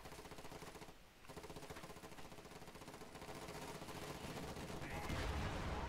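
Panzerfaust fired in a WW2 strategy game, heard amid a dense, continuous barrage of gunfire and explosions, loud and close, with a sharp burst near the end.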